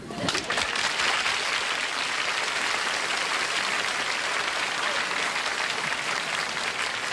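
A studio audience at a 1965 television variety show, The Danny Kaye Show, breaks into dense, sustained applause, loud and steady for seven seconds with no letup.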